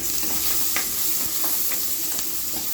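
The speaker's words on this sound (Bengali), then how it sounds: "এরপর যে কচুর ডাটা রেসিপি অর্থাৎ গন্ধ করার জন্য পেঁয়াজ কুচি মরিচ কুচি এবং একটি শুকনো আবার রসুন কুচি ভেজে নিচ্ছে" Chopped onion, green chili and garlic fry in oil, making a steady close sizzle with a few soft stirring scrapes and no speech.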